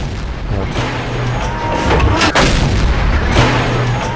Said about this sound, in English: I just continue pouring on the shells into this Pershing